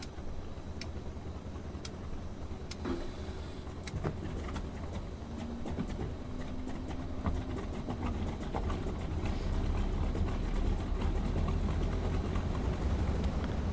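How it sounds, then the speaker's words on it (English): The left radial engine of a Junkers Ju 52 starts in Microsoft Flight Simulator, a low rumbling drone that builds gradually and steadily, with scattered clicks and faint tonal whines over it. "Okay, starting the left engine."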